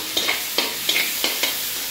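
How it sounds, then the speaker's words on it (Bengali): Onions frying in oil with turmeric: a constant sizzle broken by about five rhythmic stirring strokes, each a short scraping swish, close and clear. "ভাজা হচ্ছে পেঁয়াজে"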